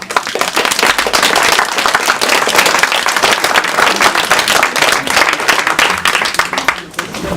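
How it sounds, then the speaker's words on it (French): A conference audience at a round-table event breaks into steady, dense clapping that stays loud and close throughout and fades slightly at the end. "Je vous remercie d'applaudir et de remercier."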